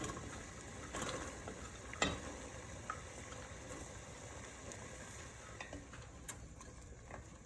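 Shallots and green beans stirred in a pan of simmering liquid for atchara, with a soft continuous sizzle and bubbling under occasional scraping clicks of a utensil, quiet and close, without speech.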